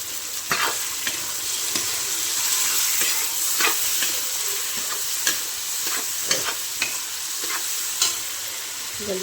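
Vegetables sizzle and crackle steadily in hot oil for a tempering, with scraping stirring strokes and pops recurring throughout, close up and without talking.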